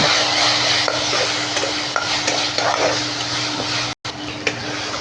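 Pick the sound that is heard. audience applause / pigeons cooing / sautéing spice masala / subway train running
sautéing spice masala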